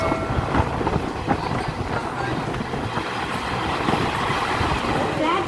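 From inside the VSG-SHM 18048 express, a steady loud rumble of a train running on tracks with faint rhythmic clatter and occasional wheel squeal, a continuous dense roar.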